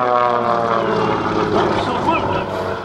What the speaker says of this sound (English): He rolls the airplane upside down, and he can see you.